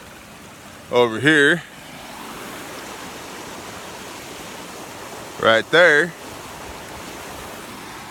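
Steady broadband rush of creek water pouring over a small spillway in a flooded backyard, constant and close, with a voice speaking briefly twice over it.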